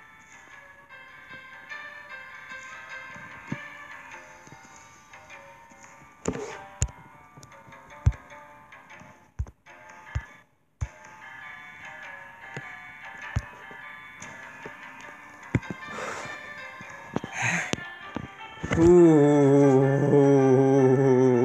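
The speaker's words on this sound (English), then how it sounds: "Let's go listen to music." Soft, tinkling music-box style tune from the horror game Boris and the Dark Survival, punctuated by sharp ticking clicks and thumps, ending in a louder sustained wavering tone.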